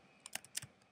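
A handful of quick, light keystrokes on a computer keyboard as a calendar name is typed, soft and close, with no talking.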